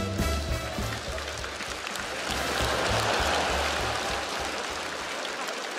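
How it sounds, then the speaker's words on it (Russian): A studio audience applauds at a Russian-language comedy show, a dense, steady wash of clapping that holds close and loud for the whole stretch without pause. "Ваши аплодисменты."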